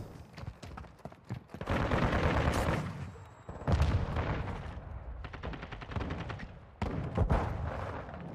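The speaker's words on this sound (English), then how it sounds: "I dodged like 7 explosions" Dense video game gunfire with booming explosions, with long bursts of rapid automatic shots and heavy blasts in close, loud waves with short lulls between them.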